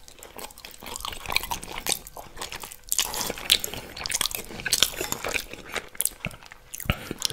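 Close, wet chewing and crunching of a smoked salmon poke bowl, with soft squishy bites and smacking repeating steadily throughout and no talking.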